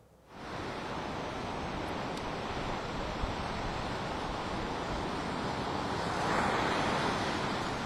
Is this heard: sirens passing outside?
no